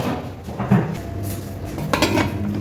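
Metal lid set down on a cooking pot of biryani, a short clatter of pots and pans with light clinks, close and alone without talk.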